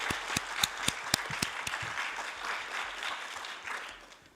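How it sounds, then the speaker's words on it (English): Delegates applaud at the close of a formal statistics committee session, a few distinct nearby claps at first, then blending into a fading wash of room applause. "we would like to give another round of big applause"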